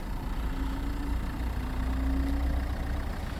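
A steady, low engine hum idles on, a faint whine riding on top, even and unbroken throughout.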